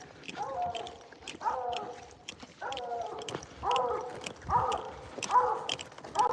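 A hound baying at an animal up a tree, a series of about seven drawn-out, evenly spaced bawls at moderate distance, with rustling and small knocks underneath.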